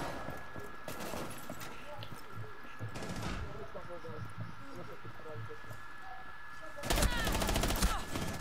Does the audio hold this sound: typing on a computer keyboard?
no